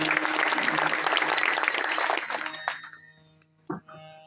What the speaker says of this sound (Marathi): महाराजांसाठी एकदा टाळ्या वाजवा.